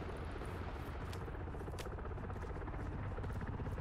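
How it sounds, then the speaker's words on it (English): In ArmA 3, a helicopter drones steadily and loudly as it approaches, a dense thrumming roar that fills the whole span with no talking. "why do I hear a chopper getting louder?"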